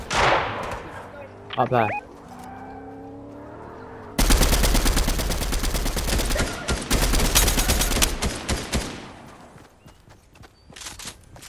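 Rapid automatic gunfire in Fortnite rattles loud and close in long bursts with brief pauses, after earlier game sound effects, while a player's voice speaks briefly.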